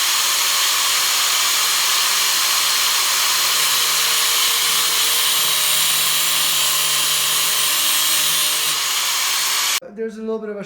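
A power tool cutting off the end of a bolt on a relocated side-facing license plate mount for a 2005 Big Dog motorcycle, a loud continuous whine held for about ten seconds, then stopping abruptly.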